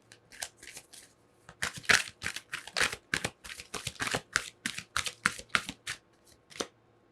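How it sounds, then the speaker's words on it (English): Tarot cards are shuffled close up in a run of quick, crisp riffles and flicks with a brisk, irregular rhythm and no voices. "we're going to pull some advice cards for you"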